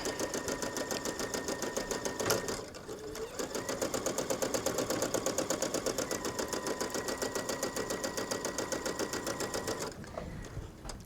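A sewing machine stitches lace onto tulle for an embroidered jacket, a fast, even rattle of needle strokes close up. The stitching breaks off briefly near the start and stops for good near the end.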